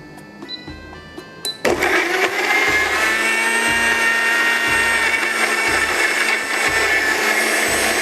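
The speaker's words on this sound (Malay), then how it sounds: "kita kisar halus halia, lengkuas, bawang merah dan juga bawang putih menggunakan blender daripada Lagome" A Lagome blender grinds ginger, galangal, shallots and garlic into a fine paste, starting with a few clicks and then whirring loudly and steadily with a rhythmic chopping pulse.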